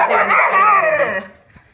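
Dogs playing, a loud close yowling bark-like vocalization with whining pitch that trails off after about a second.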